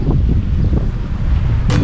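Steady wind buffets the microphone at the west side of Palm Jumeirah near a pier, a loud low rumble throughout, with a brief brighter gust near the end.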